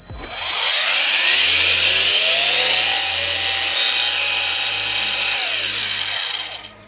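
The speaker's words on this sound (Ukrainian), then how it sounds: "ця болгарка має дуже плавний плавний пуск" A Star Pro SAG3-21 cordless angle grinder whines up smoothly from rest to a loud, steady high-pitched spin, runs briefly, then cuts off and winds down.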